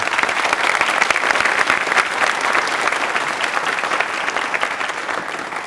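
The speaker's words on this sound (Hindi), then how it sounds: "ऊपर तालियां जोरदार" Loud, steady applause from a studio audience at a Hindi-language quiz show on DD Rajasthan, continuous clapping filling the whole stretch without a break.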